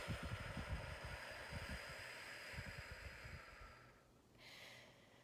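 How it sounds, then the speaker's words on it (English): Slow, deep cleansing breaths drawn and released during a guided anti-anxiety meditation, soft airy rushes close to the mic over a steady background hiss, ending in a quieter pause. "taking some nice deep cleansing breaths"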